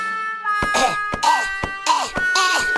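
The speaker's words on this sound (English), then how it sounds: "On his feet again, Dr. Spooky coughs." A cartoon villain gives a series of loud, close coughs in a steady run of four or five harsh bursts, with a tonal hum and sharp clanks between them.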